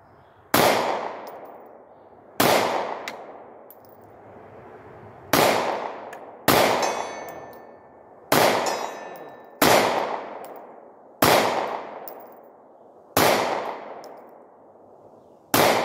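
Nine sharp Glock 43 pistol shots, spaced one to two seconds apart, are each followed by the ringing clang of a steel target hit at 65 yards. The shots are loud and close, and each ring trails off before the next one.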